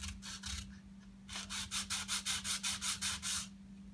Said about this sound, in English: sand just a little bit off the face here with some sandpaper on a block